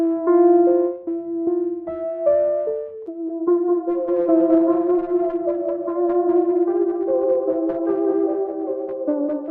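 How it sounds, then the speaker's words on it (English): A Wurlitzer electric piano plays a slow, melancholy melodic line drenched in reverb and delay, notes smearing and echoing into one another as the phrase builds to a fuller, layered texture, with no talking. "And here's this moody reverb delay that's perfect for Wurlitzers."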